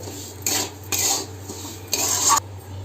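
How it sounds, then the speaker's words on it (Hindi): A spoon scrapes and stirs suji upma in a kadhai, four short rasping strokes in an uneven rhythm, close and clear over a low steady hum. "कढ़ैया गोल गोल घूमत है, ते फरिया पकड़ लेबो और अच्छे से चलाबो चम्मच"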